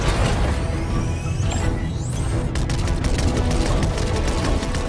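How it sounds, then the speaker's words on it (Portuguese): Battle bus laser cannons in Fortnite fire at attack drones, a dense, continuous barrage of rapid shots and crashing impacts with whooshing sweeps, loud and sustained throughout. "Eu tava torcendo pra gente ter uma desculpa pra testar os canhões a laser do ônibus de batalha"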